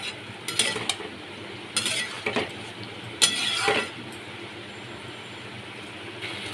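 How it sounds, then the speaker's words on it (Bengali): Kabuli chickpeas being stir-fried in a pan, with irregular scraping and stirring strokes of a utensil against the pan over a low steady sizzle, close and fairly loud, no talking. "এর মধ্যে আমি কাবলি ছোলাগুলো দিয়ে দিলাম। ভালো করে কষিয়ে নিতে হবে।"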